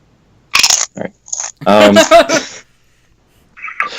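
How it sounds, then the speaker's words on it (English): Someone chewing and crunching food close to a microphone, with several short bursts of loud, crisp mouth noise separated by brief silences. "Are you chewing into the mic or something?"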